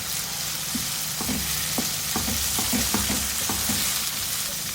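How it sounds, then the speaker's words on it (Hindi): Softened onions fry with garlic-ginger paste in a pan as filling for baked potato samosas, an even, close sizzle with scattered spoon-against-pan clinks and taps, no speech. "1 टेबल स्पून लहसुन अदरक का पेस्ट डालूंगी। फ्राई करेंगे इसको।"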